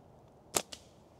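A slingshot with a clay-ammo band set fires a 3/8-inch steel ball, making one sharp, close snap followed quickly by a fainter second crack.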